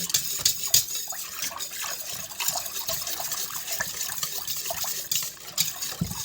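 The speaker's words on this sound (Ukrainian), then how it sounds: "Тепер збиваю ось венчиком." A whisk beats sour cream in a bowl, giving continuous close rapid scraping and splashing that stays steady throughout.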